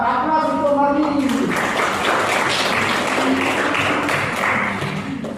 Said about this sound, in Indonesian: Aplaus untuk Marni.